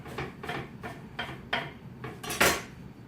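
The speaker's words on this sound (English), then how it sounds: "We got some fresh basil. I'll just kind of give a quick chop." A knife quickly chops fresh basil on a board, about six sharp, quiet taps in an uneven rhythm, close up with no talking.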